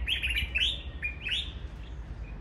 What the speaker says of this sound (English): These are my favorite little birds.